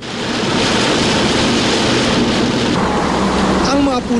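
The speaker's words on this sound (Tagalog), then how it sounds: "Malakas na ulan na sinabayan pa ng hampas ng hangin ang sumalubong sa aming pagdating sa lalawigan ng" Heavy rain and gusting wind from Typhoon Helen in Isabela province before dawn: a loud, unbroken roar of wind-driven rain fills the scene and holds steady from start to finish.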